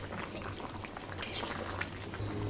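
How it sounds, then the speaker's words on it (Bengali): A pot of vegetable curry broth simmers with soft, close bubbling and small popping bursts, quiet and continuous over a low background hum. "এই দেখো ঝোল ফুটছে"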